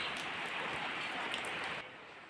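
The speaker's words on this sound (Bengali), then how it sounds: "দেখো, বাইরে বৃষ্টি হচ্ছে" Rain falling outside on a windless day, a soft, even patter heard from indoors, faint and steady before easing slightly near the end.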